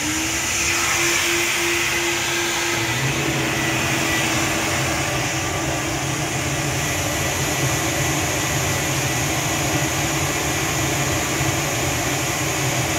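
Flow bench testing an Edelbrock Victor 5.0 intake manifold with stage 2 porting on the upper and lower, a loud steady rushing airflow roar with a constant hum that shifts pitch slightly early on and then holds.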